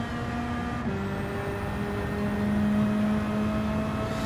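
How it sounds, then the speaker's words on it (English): Steady engine drone from a front-wheel-drive car in Gran Turismo 7, a constant low hum holding one pitch with a slight shift partway through, alone with no talking. "It sounds like that Ford Focus I tuned as a touring car."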